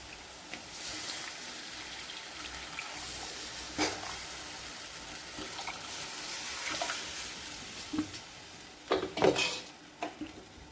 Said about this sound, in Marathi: तर अशा पद्धतीने आता आपण हे टाकून घ्यायचं आहे फोडणीमध्ये